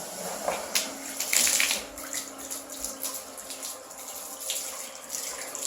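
Hot water runs from a tap in a residential bathroom in South Jordan, Utah, a close splashing stream with irregular bright spatters and knocks, steady under a faint background.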